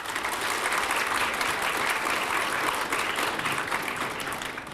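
A seated crowd of new students at a graduate school orientation gives sustained, dense applause in a hall, steady and loud throughout with a slight fade at the end, no voices over it.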